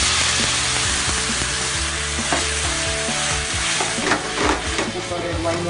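Red wine poured into a pan of frying onions for arrabbiata spaghetti sauce gives a loud, steady sizzle, with scraping and clattering stir sounds that grow busier toward the end.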